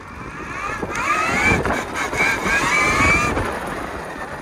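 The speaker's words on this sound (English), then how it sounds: "Let's see if I can get it to wheelie in mode 2." A KTM Freeride electric trike accelerates in mode 2 while its rider tries a wheelie. The motor gives a rising whine that climbs in pitch, set against steady wind rumble.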